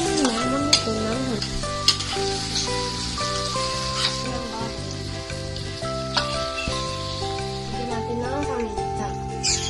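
Menudo with tomatoes sizzling in a frying pan while being stirred, a steady bright hiss with occasional utensil scrapes, set against continuous background music.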